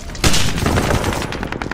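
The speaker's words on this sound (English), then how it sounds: "Suddenly, mortars and gunfire are flying in from everywhere." Burst of gunfire and mortar blasts from a Vietnam War film, starting abruptly with a loud broadband crack and continuing as dense, rolling shots and rumble, loud and close throughout.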